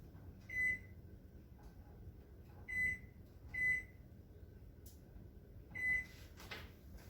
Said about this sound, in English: Let me set my kitchen timer.